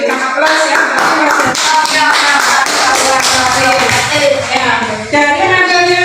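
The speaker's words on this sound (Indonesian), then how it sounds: "Diberikan aplaus ya." A classroom of students claps together in steady, dense applause, loud and close, lasting several seconds with a brief dip near the end.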